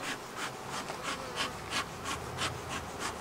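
Honey bees buzz around an opened hive, a dense, constant hum with regular pulsing swells, close to the listener and with no voices.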